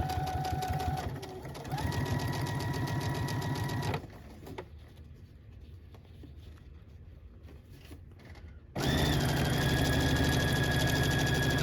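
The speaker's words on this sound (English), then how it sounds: "And then I'm going to start sewing this" A sewing machine stitching piping onto a toddler dress, running in fast steady rapid bursts, pausing for a few seconds of quiet handling, then starting again at full speed close by.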